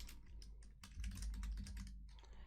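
Quick bursts of typing on a computer keyboard, close and fairly quiet, a flurry of key clicks with a brief pause before more keystrokes.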